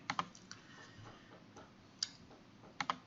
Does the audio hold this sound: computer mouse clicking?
yes